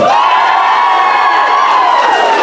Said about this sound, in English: A big cheer for this section.